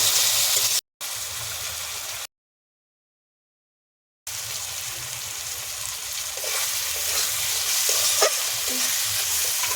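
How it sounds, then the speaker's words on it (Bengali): Close, steady sizzling of spices frying in a hot pan with salt, with stirring and scraping throughout and one brief break in the middle. "এবারে ভালো করে ভাজা ভাজা করে নেবো"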